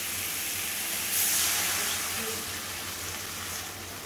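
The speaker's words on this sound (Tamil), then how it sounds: "ரசம் கொதிச்சுட்டுருக்கு." Traditional mango seed rasam with added dal water boils in a pot, a loud, steady, close hiss and bubbling that holds evenly throughout with no voices.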